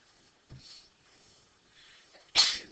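A single sharp sneeze bursts out in a calculus classroom near the end after a quiet stretch with faint breathing and small noises.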